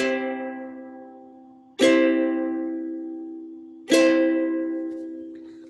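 Three ukulele chords strummed one after another, each ringing out and slowly fading before the next, bright and close with no talking.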